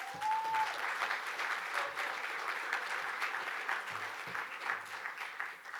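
A conference keynote audience applauds steadily throughout, a dense wash of clapping from a large crowd that tapers slightly at the end.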